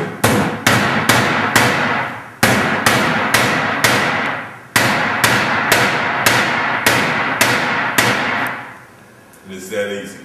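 Repeated hammer blows drive nails into a clamped wooden canvas stretcher frame, sharp loud strikes in quick bursts separated by short pauses, close by with no talking.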